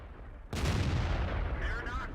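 A tank gun fires in the online tank battle game World of Tanks, one loud sudden boom followed by a sustained rumbling roar that fades slowly.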